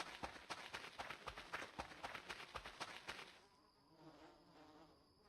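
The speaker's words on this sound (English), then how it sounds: "I hear bees. There must be a bee's nest up there." A steady swarm of bees buzzes from a nest overhead in the video game Voices of the Void, loud and close with pulsing wingbeats, then fading to a quieter, distant hum.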